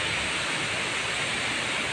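Water pours steadily over Wawa Dam, a dense, unbroken roar of rushing flow, loud and close with no voices.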